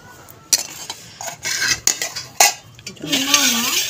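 Metal serving utensils clink and scrape while hot rice is served onto a banana leaf, with a few sharp knocks and a steady clatter of dishes close by.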